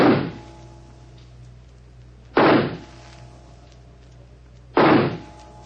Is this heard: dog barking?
no